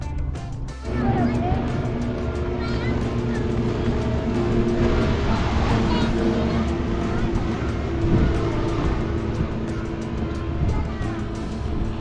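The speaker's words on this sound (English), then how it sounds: "Yeah, it's a Lamborghini car." A Lamborghini sports car engine runs loud and steady for the whole stretch, close by, with a low rumble and only mild swells that suggest revving or a drive-past, under some background noise.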